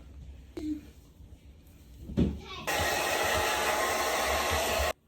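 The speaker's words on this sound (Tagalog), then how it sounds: "Tapos, i-blow dry natin ulit." A hair dryer switches on and blows hair dry with a loud, steady whoosh for about two seconds, then cuts off, after a few brief knocks and rustles in a quiet room.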